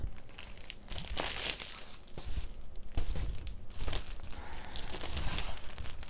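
Backing film peels off a diamond painting in close crinkling, crackling bursts of plastic, quiet and irregular, with brief pauses between pulls.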